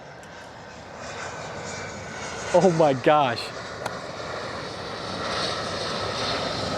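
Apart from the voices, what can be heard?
airplane flying overhead near an airport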